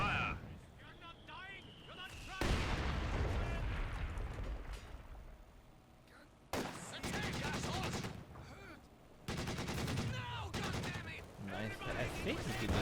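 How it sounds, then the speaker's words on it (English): Battle from the real-time strategy game Company of Heroes 2, with Red Army artillery firing heavy booming salvos and explosions in sustained loud bursts over rumbling background, as a voice talks over it. "Red Army artillery ready to fire."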